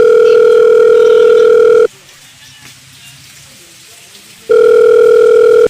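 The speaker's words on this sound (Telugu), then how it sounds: "అమ్మదాస్ ఫోన్ చేద్దాం మరా." Telephone tone while a call is placed in a village, a loud, close steady tone that sounds for about two seconds, cuts out for roughly two and a half seconds, then resumes.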